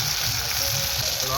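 Ginger paste and cumin-coriander paste sizzle in hot oil with dried red chillies and bay leaves during tempering, a loud steady frying crackle.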